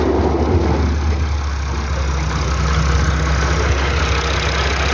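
Tractor with a trolley attached idling nearby, a steady low diesel rumble with a constant hum throughout, loud and unbroken with no talking.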